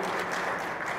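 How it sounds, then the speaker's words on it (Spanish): Audience applause at a meeting with the civil association PROART A.C.: a brief, steady burst of many hands clapping at once, filling the moment without any voices. "Y sí se vale el aplauso"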